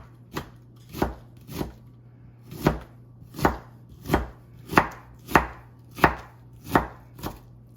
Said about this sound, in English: Take my knife and slice, slice, slice, slice, slice. And turn it like this and chop.